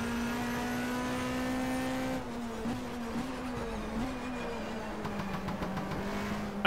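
Race car engine in the BTCC 1997 touring car racing game, a sustained droning tone that holds steady, then dips and shifts pitch with gear changes and throttle lifts, fairly close and continuous.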